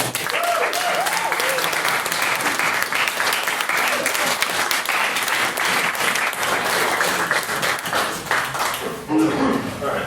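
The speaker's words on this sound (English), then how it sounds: "Once again, please second round of applause for Mr." Sustained applause from a debate audience fills the room, steady and dense throughout, with voices faintly mixed in beneath the clapping.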